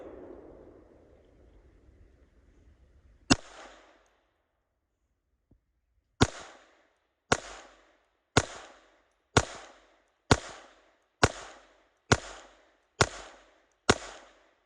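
Glock 44 pistol fired outdoors, a single sharp shot followed after a pause by eight more evenly spaced, loud reports with short echoing tails, with a low murmur of background noise at the start.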